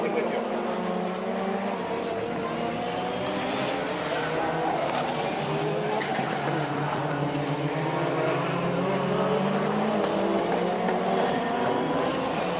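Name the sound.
Group B style rally car, about 680 horsepower, racing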